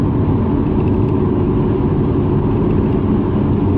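Interior road noise of a Dacia Duster cruising at 90 in sixth gear: a loud, steady low rumble of engine and tyres, constant throughout with no speech.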